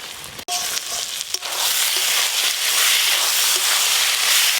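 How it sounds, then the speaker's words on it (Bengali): Spices with chopped tomato fry in a pan for mutton biryani, giving a loud, steady sizzle that swells after a brief clatter near the start and then holds close and continuous. "মশলাগুলোকে খুব ভালো করে এবার কষে নেবো, তারপরে মাংসটা দেবো"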